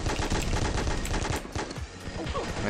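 A piranha gun in the game Pixel Gun 3D fires rapid consecutive shots in a dense, steady burst, loud and close, with quick repeated bangs that run through the whole stretch.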